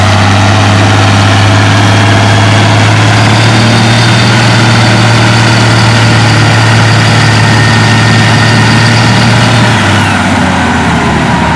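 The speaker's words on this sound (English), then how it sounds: "We got Alice Chalmers D21 with Mike at the wheel." Allis Chalmers D21 tractor at a tractor pull, its heavy diesel engine droning steadily at close range for most of the run, then easing off near the end, with no talk over it.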